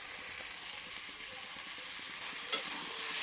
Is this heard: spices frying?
yes